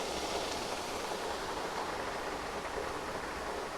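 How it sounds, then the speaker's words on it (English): A waterfall on a hiking trail in Alabama makes a steady, broadband rushing hiss, continuous and fairly distant, with nothing else heard over it. "That's the waterfall we were at the top of yesterday at the end of the day."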